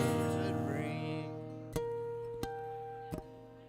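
A musician imitates a doorbell live on stage in a bar, sustained ringing tones followed by a few sharp percussive hits spaced apart, fairly quiet and without voices over it.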